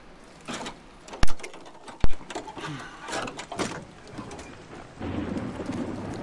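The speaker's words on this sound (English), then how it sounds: "Okay, that's thunder. It's gonna rain." Two sharp, loud thunder cracks early on, followed by steady rain patter and rumbling, with faint background sounds throughout, in the video game Days Gone.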